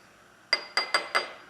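A spoon clinks against a glass while stirring a vinegar and baking soda mixture, four quick, bright taps close by, with no talking.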